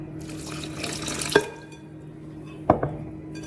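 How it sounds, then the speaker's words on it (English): Room-temperature water runs from a tap into pancake batter in a home kitchen, a steady close trickle broken by two sharp clinks from the bowl or utensil. "Now we're going to add in room temperature water."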